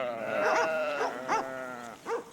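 A flock of sheep guarded by Maremmano livestock guardian dogs, several bleats rising and falling in quick succession at close range, with a few shorter calls breaking through a steady background.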